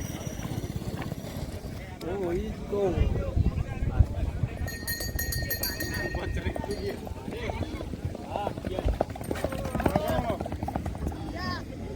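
Racehorses run at a horse race with rapid clip-clop hoofbeats over a busy outdoor background, mixed with voices and crowd noise throughout.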